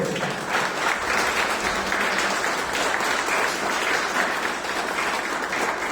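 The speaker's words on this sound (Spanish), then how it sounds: "Dale un fuerte aplauso a él." A church congregation breaks into loud, sustained applause, dense clapping filling the room steadily for the whole stretch without a break.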